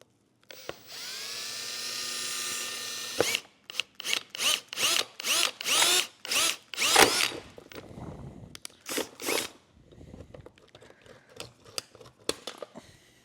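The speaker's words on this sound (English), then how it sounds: "I'm going to drill in an inch hole with my drill and spade bit" A power drill with a spade bit whirs in one long sustained burst, boring a one-inch hole through a plastic Christmas bulb decoration, then runs in a string of short, loud pulses as the bit chews through.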